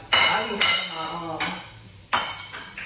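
Dishes being washed by hand in a home kitchen: sharp clinks and clatters of plates and utensils in a few distinct bursts, close by, with running or splashing noise between them.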